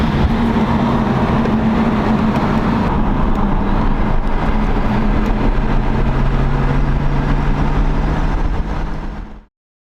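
A BMW E92 M3 with a six-speed manual in rough condition drives along, its engine a loud, steady drone that holds throughout, with a sustained low tone, before cutting off abruptly at the end.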